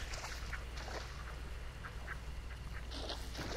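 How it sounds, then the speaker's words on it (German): Ducks in the video game Hunt: Showdown give short, scattered quacks at moderate distance over a steady ambient outdoor bed. "Ach nee, hier sind Enten."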